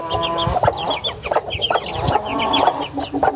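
Month-old chicks of a rare, large chicken breed that grows to about 10 kg cluck and chirp close by in a busy, overlapping stream of short repeated calls, with no talking.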